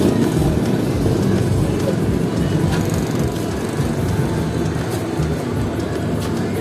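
A Mio 4 scooter with a built 240cc four-valve SOHC liquid-cooled fuel-injected engine runs close by, a loud steady rumbling idle with a rough, pulsing texture and no voices over it.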